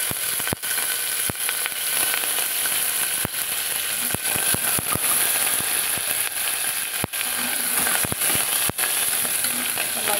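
Shallots, green chillies and curry leaves sauté in a hot pan, a steady close sizzle broken by sharp clicks of a spatula scraping the pan at irregular intervals.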